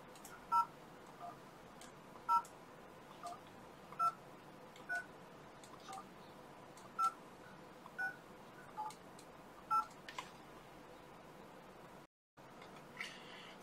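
A smartphone keypad gives about ten short, evenly spaced dialing tones, one per number entered, each faint and alone against a quiet background, ending in a brief silence.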